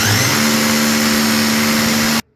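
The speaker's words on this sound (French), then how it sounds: "donc là je prends la perceuse" A drill running in hammer mode bores through ceramic wall tile during a bathroom sink installation, giving a loud, steady grinding whine with a sustained tone that runs for about two seconds and then stops abruptly.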